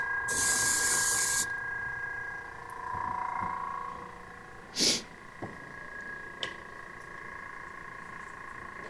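Airbrush sprays paint in a close, bright hiss for about a second, then a soft background hum with a few faint clicks and brief puffs follows while the workshop stays otherwise quiet.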